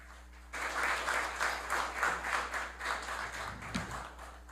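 Applause breaks out in a municipal council plenary session, a burst of many hands clapping that starts suddenly after a quiet moment and carries on steadily for about four seconds.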